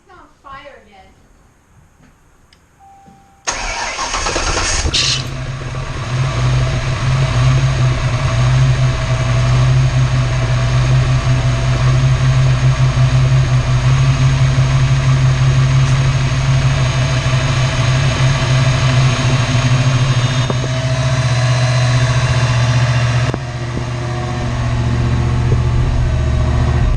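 A race car that had caught fire turns over a few seconds in and settles into a steady, loud idle, a low rumble that holds for the rest of the clip.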